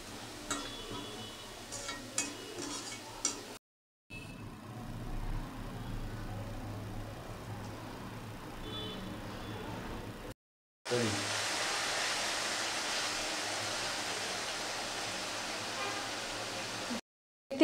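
Shredded potatoes deep frying in oil for crisp party-style jhuri aloo bhaja, giving a steady broadband hiss and crackle in three stretches split by brief silent cuts, the last stretch louder and denser.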